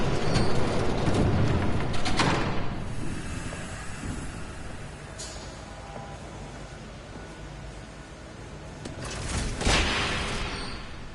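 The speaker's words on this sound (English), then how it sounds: "There's a train coming." Train rumbling past in the Batman Telltale Series video game, a broad, loud roar with rattling bursts that swells, eases in the middle and surges again near the end, with no voices.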